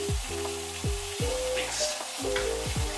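Canned beans fry with onion in a pan over high heat, making a close, crackling sizzle broken by several scraping stirs of a utensil against the pan.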